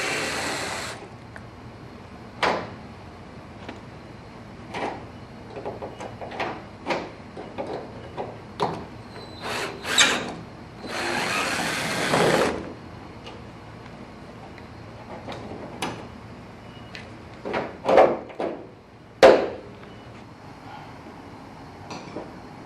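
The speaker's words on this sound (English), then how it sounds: "Rusty old screws. The only way we're getting them out is with an impact." An impact driver backs rusty slot-head screws out of an old Dodge truck door, firing in short bursts and clicks with one longer rattling run, close and fairly loud among scattered knocks of metal.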